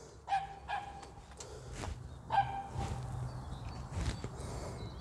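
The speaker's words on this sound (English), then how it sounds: "Excuse the barking dog." A dog barks beside a modified Ford Ranger Wildtrak, giving several sharp barks in two short bursts with a few quieter yips between them, fairly distant and faint over outdoor background noise.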